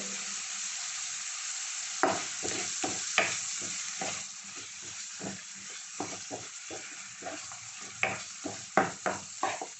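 Squid curry tempering cooks in a pot without added water, giving a steady soft sizzle broken by repeated sharp clinks and scrapes of stirring.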